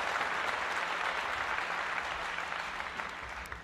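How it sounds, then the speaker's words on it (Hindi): Applause from an audience welcoming a woman honoured at an Indian public event, a thick continuous clatter of many hands that stays even and fades only slightly near the end. "जोरदार तालियों के साथ इनका स्वागत।"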